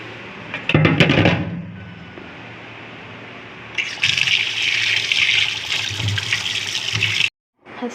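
Fresh fish being washed under a running tap, a steady splashing rush of water with louder bursts and handling noises, ending abruptly.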